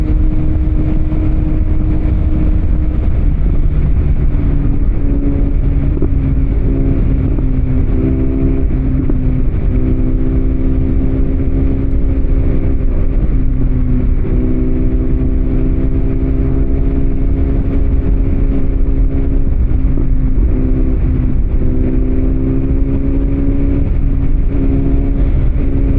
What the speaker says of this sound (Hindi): अपनी गोल्ड विंग पर बिल्कुल स्मूथ राइड कर रहे हैं